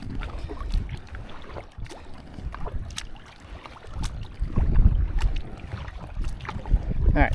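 Steady paddle strokes of a kayak moving through water with a Euro blade paddle, rhythmic splashes and low wash under light wind noise, close and moderately loud throughout.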